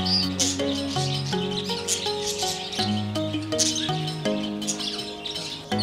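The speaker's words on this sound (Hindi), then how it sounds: "ऑस्ट्रेलिया के इस छोटे और लंबी पूंछ वाले तोते को बजरीगर के नाम से जाना जाता है।" Small long-tailed budgerigar parrots at Dehradun Zoo chirp and twitter in quick, busy bursts over a dense, tonal background, fairly close and continuous.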